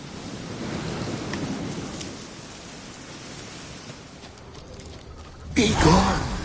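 Steady rain hiss with a windy, surf-like wash fills a video game scene, with a louder burst near the end.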